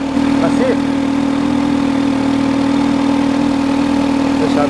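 A supercharged Kawasaki Z H2 naked motorcycle idles nearby, giving a steady, loud, even hum that holds without change throughout.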